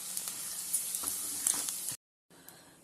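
Rice appalam (vadam) frying in hot oil gives a steady, close crackling sizzle that cuts out abruptly near the end and then resumes a little quieter.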